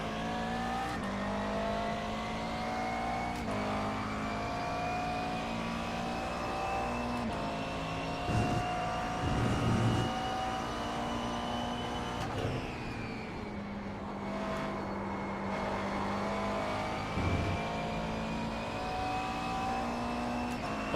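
A McLaren race car in the iRacing simulator holds a steady, loud engine drone whose pitch rises and dips slightly as it revs, with brief changes in tone over a continuous rumble.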